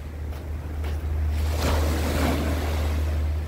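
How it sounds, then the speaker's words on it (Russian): Surf washes steadily onto a sandy beach at Alanya, Turkey, a continuous close rush of breaking water with a low wind rumble underneath and no talking. "Песчаный пляж."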